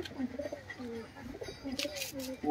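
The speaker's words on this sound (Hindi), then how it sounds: "देखो जी कबूतर छोड़ दिया है," Pigeons coo in a steady rolling series of soft throaty calls, close by and moderately loud, as birds are released from a coop; a few brief rustles and flutters join near the end.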